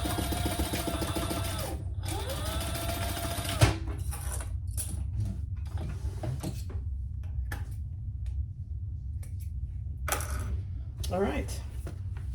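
A sewing machine basts the rounded edge of a curved handbag, running in steady mechanical bursts with stops between, close by, with some handling clatter of fabric and parts and a voice talking at times.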